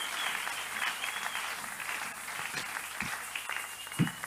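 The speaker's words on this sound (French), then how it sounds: "Nous applaudissons pour le Seigneur." A church congregation applauds together in a sustained, dense wash of clapping at steady loudness, with a few sharper claps standing out near the end.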